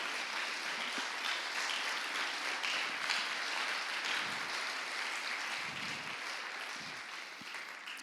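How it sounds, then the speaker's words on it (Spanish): Church congregation applauding during a service, a continuous, fairly faint spread of clapping from a large room with a few low thumps underneath. "Den un aplauso a Dios."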